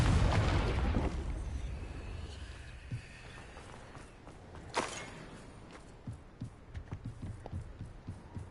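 Confringo fire blast spell in Hogwarts Legacy, a loud rumbling explosion right at the start that decays over a second or two, followed by a sharper burst and scattered softer impacts in the game.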